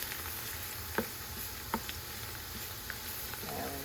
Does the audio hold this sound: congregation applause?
no